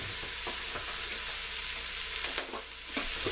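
Dried oregano, thyme and bay leaves sweat with vegetables in a soup pot, sending up a dense, loud hiss of frying with intermittent stirring scrapes.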